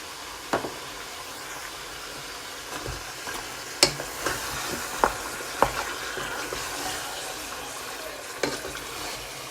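Marinated beef frying with browned onions in a pot, a steady close sizzle with occasional sharp scrapes and clacks from stirring, no talking.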